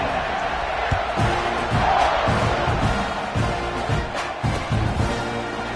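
A stadium crowd at a college football game against UTSA roars steadily just before kickoff, a dense wall of cheering and shouting with scattered whoops and claps, loud and continuous throughout.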